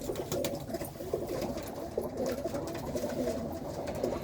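Top-class pigeons housed as breeding pairs fill the space with a steady, low chorus of overlapping coos and rustling, continuous and moderately quiet throughout.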